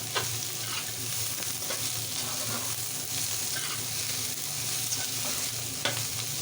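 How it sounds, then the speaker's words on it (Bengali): Potatoes and bottle gourd peel frying in a pan, a constant close sizzle with occasional spatula scrapes as they are stirred, no voices over it. "ঢাকনা দিয়ে ঢেকে তারপরে ঢাকনাটা তুলে নেড়ে নিচ্ছি লাল লাল করে ভেজে নিতে হবে"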